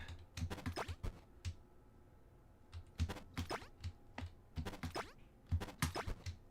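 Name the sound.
typing on a computer keyboard while playing HoloCure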